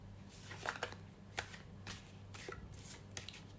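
Tarot cards being shuffled and handled at close range, giving soft, quiet riffling and flicking sounds over a low steady background hum.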